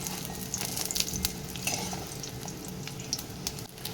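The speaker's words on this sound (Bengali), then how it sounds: "বড়াগুলো আমি তেলের মধ্যে দিয়ে দিয়েছি" Steady crackling sizzle of gram-flour fritters frying in hot oil, with brief sharp pops and clinks rising above the constant hiss.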